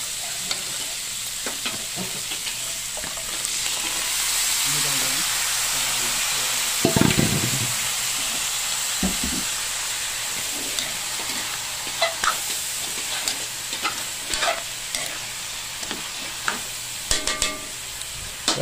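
Vegetables for lumpiang sariwa stir-frying in a pan, a steady close sizzle with frequent clacks and scrapes of a spatula stirring, loudest around the middle.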